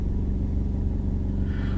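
A car drives into a garage with a low, steady engine rumble close by, brief and unbroken, without speech.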